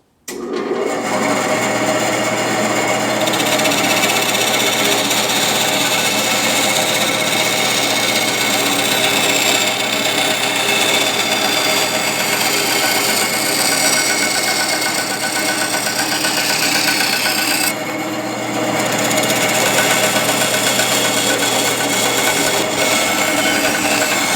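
Bandsaw fitted with a new Wood Slicer blade cutting through a piece of wood, a steady loud motor whine with blade rasp running almost continuously, dipping briefly near the end before resuming.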